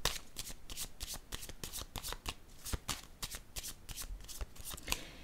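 Tarot cards being shuffled by hand, a rapid run of crisp riffling flicks and soft slaps that keeps going steadily for several seconds, close up, with no one speaking.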